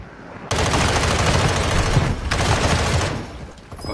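Dense video-game gunfire erupts in loud, sustained rapid bursts, a fusillade of overlapping shots with a short pause before resuming, close and dominant with no talking.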